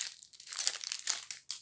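Plastic packaging on a set of cheap pens crinkling as it is opened, close sharp rustles in several short bursts with brief pauses.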